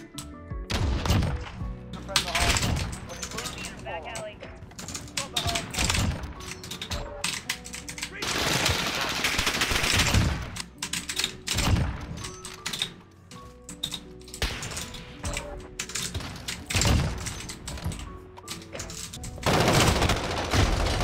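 Gunfire in Call of Duty: Modern Warfare (2019): loud, dense bursts of automatic weapon fire and sharp shots repeat in clusters throughout, with brief lulls between exchanges.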